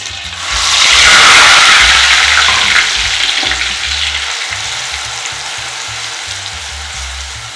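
Ground spice paste hits hot oil in a kadai for a goat brain fry, bursting into a loud, close sizzle that peaks quickly and then settles into a steady, softer frying hiss with light stirring.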